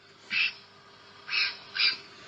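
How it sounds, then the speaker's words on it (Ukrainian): Magpies give three harsh, raspy chattering calls, spaced unevenly over a couple of seconds against a quiet, steady background hum. "Послухайте, як кричать сороки."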